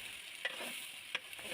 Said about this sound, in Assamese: পিঁয়াজখিনি দি মই অলপ ৰঙচুৱাকৈ ভাজি লৈছোঁ।